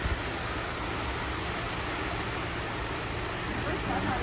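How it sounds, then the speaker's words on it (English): Dense, heavy rain falls steadily in bands over a garden with giant pumpkin plants, a continuous even wash of noise from start to finish with no break. "It's dense, heavy rain."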